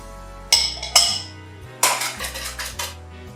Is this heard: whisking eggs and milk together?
yes